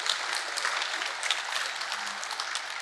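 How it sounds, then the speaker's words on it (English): Audience applause at a Ruby on Rails developer conference talk, a steady wash of clapping from a crowd holding evenly for a few seconds with no voices over it. "applause for him"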